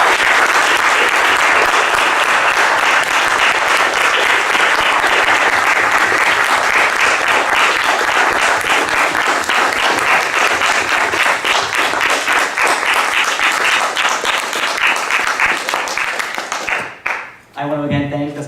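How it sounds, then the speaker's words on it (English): Loud, dense audience applause at a candidate forum's closing, sustained clapping from a full room for about seventeen seconds before it thins out and stops. "Let's give both of them a warm round of applause."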